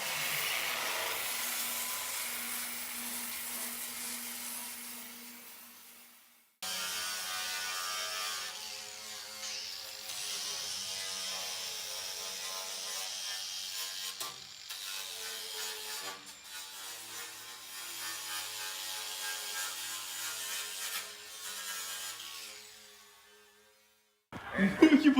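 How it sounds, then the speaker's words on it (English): An angle grinder swirls a pattern into the sheet metal of a Notchback car body during a scrapyard-to-racetrack build, a steady buzzing whir that runs continuously with a brief break, then ends abruptly. "He's Mr. Miyagi with the grinder, son"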